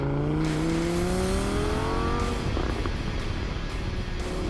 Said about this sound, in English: there is the noise of the V10 crackling,